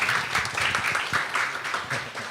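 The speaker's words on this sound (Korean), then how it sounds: "큰 박수로 한번 맞이해 주시기 바랍니다" Steady crowd applause, a dense wash of clapping throughout, loud and close, with a faint voice mixed in.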